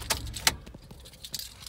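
Keys for a Volkswagen Up car jangle close by in two quick metallic bursts, then fainter light rattles follow.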